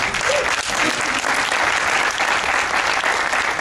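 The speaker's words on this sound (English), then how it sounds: "A big applause for them." Sustained, dense applause from a press conference audience in Oslo, loud and steady throughout with no talking.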